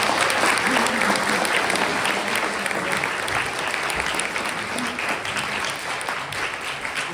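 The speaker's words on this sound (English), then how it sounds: "Applause." A crowd at a California state senate district candidate forum gives sustained, dense applause for state senator Ben Allen, a continuous wash of many hands that holds steady for several seconds and eases slightly toward the end.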